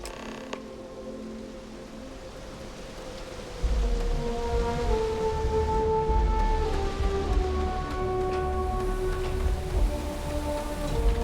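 Rain falls in the video game Starfield, a steady hiss of drops in a city setting that thickens partway through, with faint tonal game music lines running underneath.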